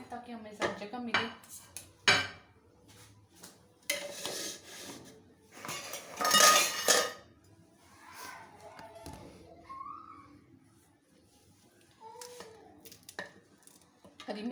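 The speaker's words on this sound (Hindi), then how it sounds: "खाली बर्तन जगह साइड पे करते जाते हैं ताकि हमें ज़्यादा जगह मिले" Empty cooking pots, pans and utensils clattered and shifted aside on a kitchen counter, a series of irregular close metallic clanks and knocks spread across the stretch, with quiet gaps between.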